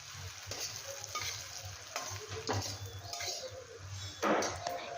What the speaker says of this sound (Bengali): এবার সুজিগুলো দিয়ে ভালো করে ভেজে নেব।